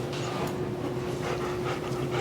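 A dog panting in quick, rhythmic breaths close by, with a soft whimpery edge over a low steady hum in the background.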